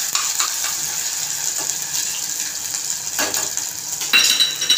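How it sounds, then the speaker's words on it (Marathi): Onion sizzling in a pan with masala paste for a Malvani-style bhaji, a steady bright frying hiss throughout, broken by a few sharp clinks and scrapes of a spoon stirring against the pan. "कांदा परतून घ्यायचा आहे।"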